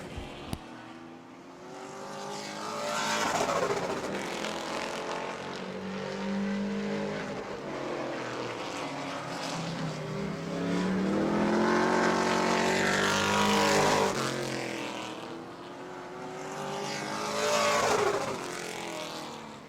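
Pro trucks roar around an oval track during qualifying at Auburndale, engines rising and falling in pitch as they pass, loud and continuous with doppler sweeps.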